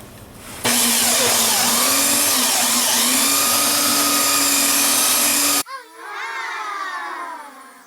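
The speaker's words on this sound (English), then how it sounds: "we're going to use this belt sander and give it a little once over" A belt sander grinds across a gouged, scratched kitchen worktop with a loud, steady whine for about five seconds, then cuts off abruptly as its motor spins down.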